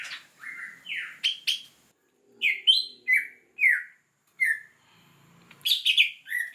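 Small songbird chirping in bursts of sharp rising and falling calls while held in the hand to have a leg ring fitted, close and clear with short pauses between calls.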